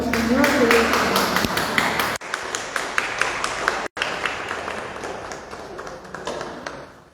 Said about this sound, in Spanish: Vamos a darle un fuerte aplauso a nuestro Señor de Dios.